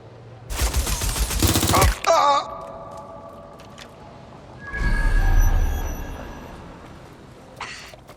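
Gunfire in Watch Dogs Legion, a loud rapid burst of automatic shots near the start, then scattered fainter shots and rumbling action noise later on.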